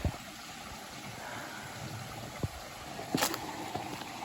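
Clear stream water flowing beneath a bridge on a hiking trail, a steady soft wash of moving water with a few brief splashes and knocks, heard alone at a moderate distance.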